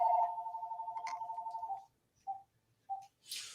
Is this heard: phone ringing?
yes